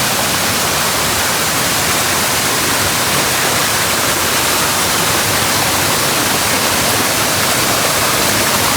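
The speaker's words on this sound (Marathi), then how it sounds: "या झऱ्याच्या आवाजाने मन अगदी प्रसन्न होतं." A natural spring stream near the ancient Vimleshwar temple at Wade, Devgad, gives a loud, continuous rush of flowing water that stays even and unbroken throughout.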